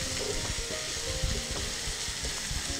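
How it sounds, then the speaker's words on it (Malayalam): Shallots fry in a pan for a Kerala-style pepper chicken as they are stirred, giving a steady close sizzle with a few soft utensil knocks and scrapes throughout. "ആ ഉള്ളിയൊക്കെ ഒന്ന് മയം ആകുന്നോടെ നമുക്കൊന്ന് ഇളക്കി കൊടുക്കണം"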